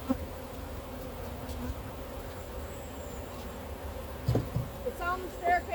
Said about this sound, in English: I've got no smoke and the bees are bad.